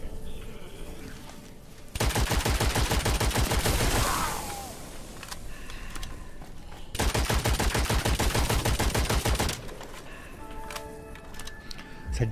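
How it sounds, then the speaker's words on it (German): Rapid bursts of gunfire from the video game Witchfire, two long, loud sustained volleys with a brief lull between them, followed by quieter ringing after-tones and scattered clicks. "Guck da die Explosion."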